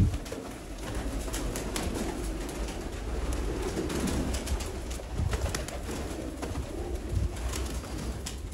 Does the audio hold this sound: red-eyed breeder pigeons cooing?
yes